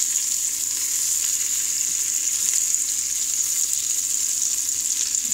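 Stuffed eggplants frying in hot oil with brown masala stuck to the pan, a steady close sizzle with no talk.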